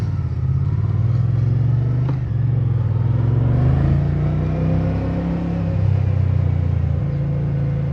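A 2024 Moto Guzzi Stelvio touring motorcycle engine under way, a loud, close, continuous low rumble that swells as the rider accelerates, with no speech.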